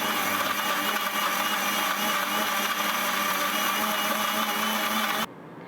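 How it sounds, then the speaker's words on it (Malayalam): A mixer grinder blends mango with pasteurized milk for a milkshake, a loud, steady whirring drone that cuts off abruptly near the end, leaving quiet. "ഇനി നമുക്ക് മിക്സിയിൽ നന്നായി ഇതൊന്ന് അരച്ചെടുക്കാം."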